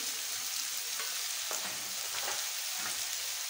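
Carrot, pea and potato sabzi with spices stirred in a pan, a steady close hiss of frying under soft, irregular scrapes of the spoon, with no voices.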